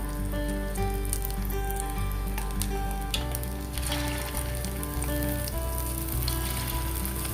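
Basa fish pieces fry in hot oil over a low flame, giving a steady, close, even sizzle with faint crackle throughout and no talking.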